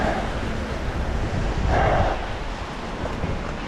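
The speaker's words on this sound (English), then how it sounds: "Look at how fast that water's moving." Fast-moving Brisbane floodwater rushes past in a steady broadband wash with a brief surge in the middle, close and fairly loud, mixed with wind buffeting on the microphone and no talk.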